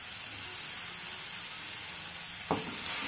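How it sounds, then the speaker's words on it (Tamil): Ginger garlic paste and tomato sauté in a pan with a steady, even hiss, and a single spoon scrape comes near the end. "இப்போ பச்சை வாசனை போகிறளவு இது நல்லா வதக்கி விட்டுடலாம்"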